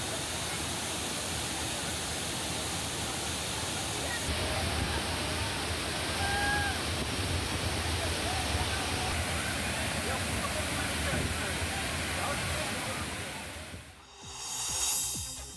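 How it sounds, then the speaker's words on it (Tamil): Floodwater pours over the safety barrier at a waterfall bathing spot where tourists swim, making a dense, steady roar that fills the whole stretch. A voice narrates over it, and the sound cuts off abruptly near the end. "அருவியில் தடுப்பு வேலியை தாண்டி தண்ணீர் கொட்டியது"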